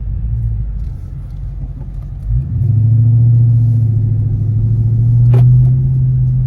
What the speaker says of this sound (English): So we are pulling out of the parking lot here at Cabela's